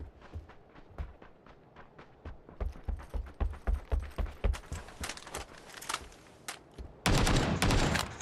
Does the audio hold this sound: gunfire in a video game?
yes